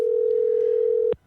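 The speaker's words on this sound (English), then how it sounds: "That's his phone ringing." A telephone ringback tone on an outgoing call during a radio interview: one steady, loud electronic tone holding for about a second before cutting off abruptly into silence.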